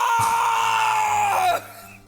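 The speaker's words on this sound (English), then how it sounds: "It's that scream I heard in the elevator." A shrill scream from the Phoenix Wright: Ace Attorney video game, one loud sustained high cry lasting about a second and a half before cutting off into quieter background tone.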